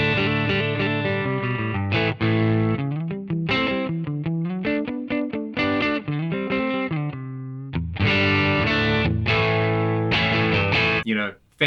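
Electric guitar played through a Fender Deluxe Reverb reissue amp on its normal channel, captured via load box and impulse response, ringing out loud sustained chords and single notes with mild distortion, continuous and alone.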